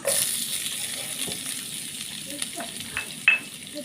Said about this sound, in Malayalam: ഇതിലേക്ക് സവാള സവാള ഇട്ട് കൊടുക്കാം ഞാനൊരു മീഡിയം സൈസുള്ള സവാളയാണ് ഞാൻ ചെറുതാക്കി അരിഞ്ഞതാണ് അതിട്ട് കൊടുക്കാം